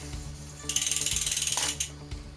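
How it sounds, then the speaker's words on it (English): A ratchet tightening the brake caliper bolts on a bicycle: a rapid run of about twenty crisp, even clicks, close and loud, between quieter isolated metallic ticks. "then gently tighten down those bolts"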